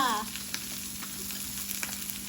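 Pork sizzles and crackles steadily on a hot tabletop grill, with small pops scattered through a continuous frying hiss.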